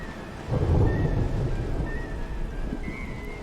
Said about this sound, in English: The storm has broken.